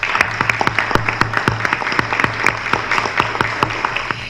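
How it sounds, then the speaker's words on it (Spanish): Audience clapping at a corporate team presentation event as a team is called to the stage, a strong, sustained round with a few sharp, near claps standing out in a fairly regular rhythm. "les pido un fuerte aplauso para que el equipo suba"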